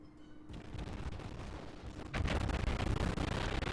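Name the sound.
warship naval gun volley in World of Warships video game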